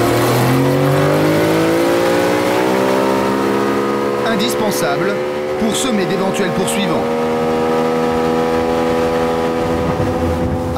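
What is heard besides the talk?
powerful outboard motor boat speeding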